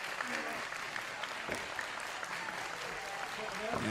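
A wrestling crowd at a PWX match cheers and applauds steadily throughout, a dense wash of clapping and shouts from an arena audience with no single voice standing out.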